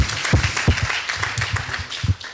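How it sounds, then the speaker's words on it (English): An audience applauds the volunteers at the Slush'D event in Dar es Salaam: close, uneven clapping with distinct individual claps, continuing for a couple of seconds. "So a big applaud to you who are the volunteers today."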